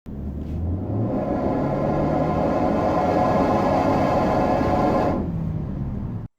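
A steady, droning low rumble from a faulty exhaust fills the interior of a 2023 Mitsubishi Outlander 2.5 petrol for several seconds, loud and continuous, with a faint hum underneath, then fades at the end.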